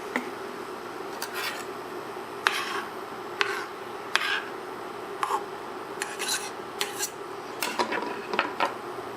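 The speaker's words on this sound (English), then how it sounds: "then we'll take our linguine, snap it in half, and in she goes" Dry linguine snapped in half and dropped into a pot of boiling water: close, sharp brittle cracks and light clattering against the pot's steady rolling-boil rumble.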